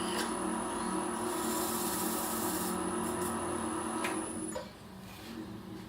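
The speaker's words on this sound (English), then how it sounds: "Turn the lathe speed up." A woodturning lathe runs steadily at a raised speed, a continuous close whirring hum with a faint high whine; the tone drops and softens near the end.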